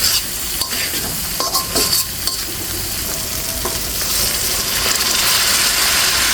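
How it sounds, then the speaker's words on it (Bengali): Hot water goes into masala and a rohu fish head frying in a pan, giving a loud, steady sizzle with stirring and a brief splashing rush near the start, continuous throughout with no talk. "এই পর্যায়ে এখন দিয়ে দেবো গরম জল।"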